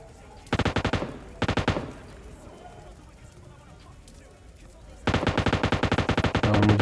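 Bursts of M249 machine gun fire in PUBG Lite ring out as rapid automatic strings: a short volley, a second brief burst, then a longer sustained stream near the end, with a voice talking in between.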